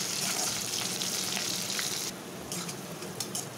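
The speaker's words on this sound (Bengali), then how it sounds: "পেঁয়াজটা দিয়ে দিব। পেঁয়াজটা দিয়ে একটু ভেজে নিব।" Onion fries in hot oil with cumin, chili and bay leaf, making a dense, continuous sizzle up close that eases slightly partway through, with faint stirring ticks.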